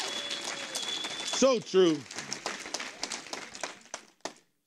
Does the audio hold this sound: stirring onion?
no